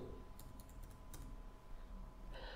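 Soft computer keyboard typing, a few quick light key clicks in a short cluster, faint and close, over a low background hum.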